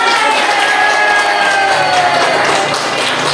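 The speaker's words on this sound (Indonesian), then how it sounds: "beri tepuk tangan" Schoolchildren in a classroom applaud during a primary-school lesson. A dense, loud, continuous burst of clapping mixes with excited young voices and chatter.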